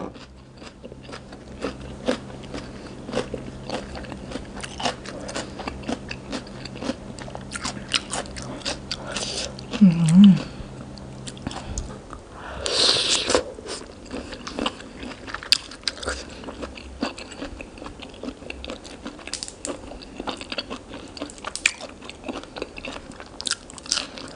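Crisp fresh raw vegetables such as bitter gourd and winged beans bitten and chewed up close, steady crunching throughout with a louder bite near the middle, served alongside a Thai spicy shrimp salad.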